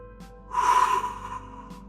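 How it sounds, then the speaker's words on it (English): A single deep breath drawn in and let out close by, a soft airy rush swelling for about half a second before fading, alone with no talk. "So take a deep breath."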